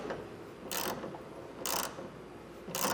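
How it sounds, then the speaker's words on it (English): Bolt being threaded into a tailgate hinge plate, heard as three separate bursts of metallic ratcheting, each lasting about a quarter second, close and fairly loud over a low background hiss. "we're then going to get this bolt and thread it up top"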